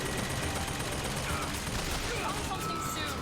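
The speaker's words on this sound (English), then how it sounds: "Look, they're shooting up the thing." Gunfire rattles in the video game Bioshock Infinite, a dense, steady wash of shots and combat noise held at a moderate, distant-sounding level throughout.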